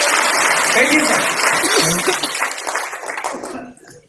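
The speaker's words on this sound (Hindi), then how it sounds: "तालियां होनी चाहिए सर के लिए।" Audience applause fills a motivational talk on a network marketing stage, a dense, steady clapping crowd that swells loud and then thins out and fades over about four seconds.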